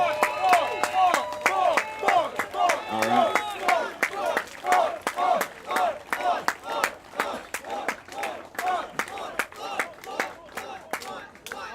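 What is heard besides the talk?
crowd applauding and cheering at a campaign opening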